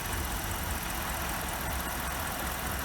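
BMW E64 650i V8 idling with a faulty PCV valve, a steady low engine drone that dips in speed, heard alone at close range without voices.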